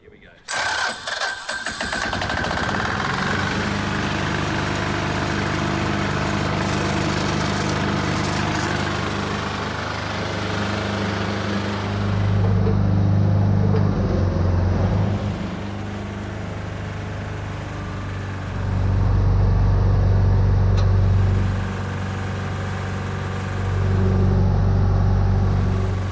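Nitro engine of a remote-controlled semi truck with a rear-steer trailer starts after preheat, then idles with a loud, close, buzzing drone that swells into several revs; a voice speaks over it.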